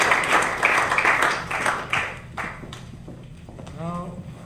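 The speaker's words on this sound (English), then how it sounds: "I think that we should give again to this panel a big applause" Audience applause for a workshop panel on sustainability partnerships in the leather industry, a dense patter of clapping across the room that thins out toward the end, with a voice speaking over the last moments.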